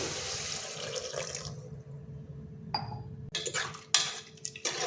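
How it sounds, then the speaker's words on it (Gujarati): A glass of water splashes and pours into a metal pot of khichdi, with clinks of cookware and a few sharp bursts of sizzling and clatter nearby. "એમાં આપણે એક ગ્લાસ પાણી નાખીશું"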